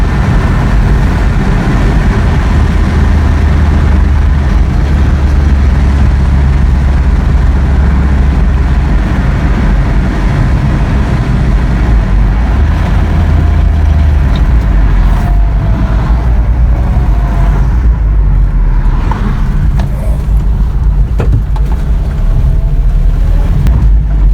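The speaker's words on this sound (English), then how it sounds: "we'll listen to the engine one more time" A 1985 Toyota Pickup engine, just given a fuel filter change and running with slight skipping and hesitation, idles loud and close in a steady, continuous low rumble with no talk over it.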